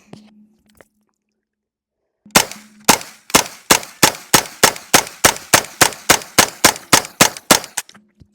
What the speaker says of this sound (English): Let's see if this AK shoots straight.